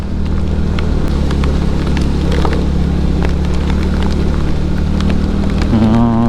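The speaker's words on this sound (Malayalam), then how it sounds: "മഴയുണ്ടോ ചോദിച്ചാൽ മഴയുണ്ട്. വലിയ മഴയാണോ ചോദിച്ചാൽ വലിയ മഴ അല്ല." Steady light rain patters on a surface over a constant low engine hum, close and continuous.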